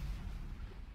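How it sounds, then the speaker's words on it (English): A missile explodes inside a weapons-testing ship in the space game StarMade, giving a deep, sustained low rumbling boom that fills the whole short moment without any voices. "out of fun, we'll just lob a missile in there"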